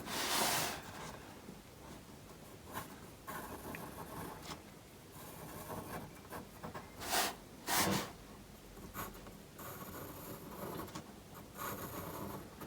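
An IKEA pencil drawing a country scene with chimneys on paper ahead of watercolour painting: continuous soft scratching and rubbing strokes, close and fairly quiet, with occasional louder scrapes and no talking.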